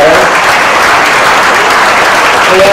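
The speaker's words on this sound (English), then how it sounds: "And one last round of applause for our outstanding singers," Audience applause at an elementary school Christmas concert: a dense, loud wash of many hands clapping that holds steady from start to finish.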